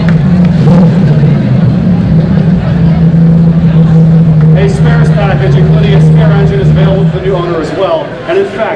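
A 1986 Porsche 962 race car with a 750 horsepower engine carrying 911 GT1 upgrades, run by a racing team, gives a loud continuous engine drone that holds steady and then fades slightly near the end.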